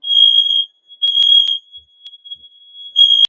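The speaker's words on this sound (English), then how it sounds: "when your smoke alarm goes off" A smoke alarm emits loud, piercing high-pitched beeps in irregular bursts, some long and some short chirps, close by with no talking.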